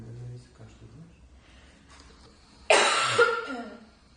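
A young woman gives one harsh, loud barking cough with a short rasping tail, close to the mic, after a few seconds of quiet background talk.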